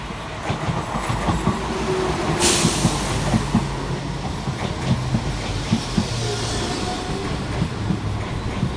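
A pair of class 172 diesel passenger trains roll into Blakedown station, a steady rumble with rhythmic wheel clicks over the rail joints and a brief loud hiss partway through, no talking.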